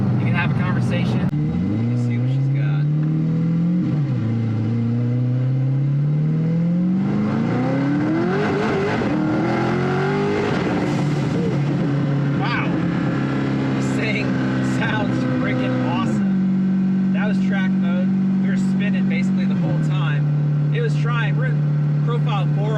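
A 1200 whp Alpha C8 Corvette cruises in 8th gear at about 1,500 rpm, its engine holding a steady low drone with a brief rise and shift mid-way, under continuous talk from inside the car.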